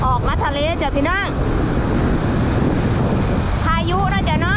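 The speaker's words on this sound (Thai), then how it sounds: "พายุนะจ๊ะเนาะตอนนี้พายุเข้าเมือง" Storm wind batters the microphone on a stormy sea coast, with waves roaring underneath and a voice speaking over it at the start and end.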